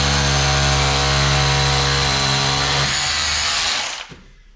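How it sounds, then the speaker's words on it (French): A Bosch GBH 18V-21 cordless rotary hammer in hammer mode drills into brick, a loud steady buzzing drone that runs unbroken for about three and a half seconds before stopping abruptly. "Je suis en mode percussion, donc ça c'est l'idéal. Et donc c'est parti. On va aller directement dans la brique ici."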